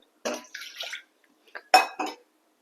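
Potatoes and beetroot being washed in water in a kitchen: a few short splashing, sloshing bursts with clattering against a vessel, separated by brief pauses, fairly close.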